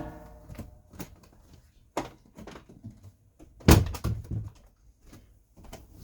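A house door swings open as a cat comes in, giving a solid thunk midway among scattered quieter knocks and shuffles, close by in a quiet room.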